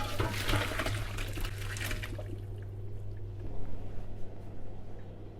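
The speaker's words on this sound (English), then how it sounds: "So let's drain those potatoes now." Water from boiled potatoes pours into a colander in a kitchen sink, a rushing splash at first that thins into a quieter trickle and dribble, heard close and alone.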